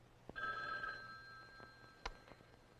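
A telephone gives one short bell ring, close and distinct, followed by a couple of faint knocks in a quiet room.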